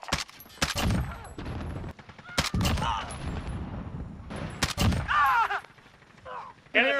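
Bursts of automatic gunfire in Call of Duty Warzone multiplayer, sharp volleys scattered across the stretch with quieter gaps between them, mixed with game radio voice lines and chatter.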